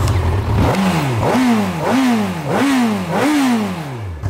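Honda CB1000 motorcycle engine starting and then being revved repeatedly, with five close, loud rising throttle blips in a steady rhythm and no talking.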